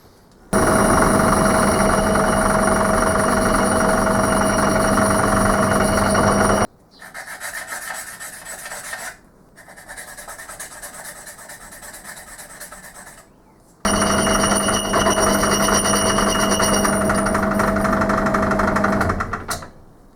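A lathe cuts metal with a high-speed steel tool bit, giving a loud, steady scraping whine in long passes separated by short pauses, with a quieter stretch in the middle.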